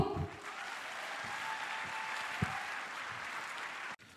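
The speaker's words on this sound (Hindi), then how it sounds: "एक बार जोरदार तालियां आप सभी की मैम के लिए होनी चाहिए।" Audience applause for someone speaker at the Ayurved Anantam 2025 event, a steady broadband clapping wash sustained for about four seconds before cutting off, fairly even in level with a brief louder clap near the middle.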